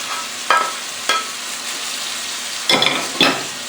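Mixed vegetables with cabbage cook in a pan over medium heat, giving a soft steady sizzle broken by a few louder scraping stirs.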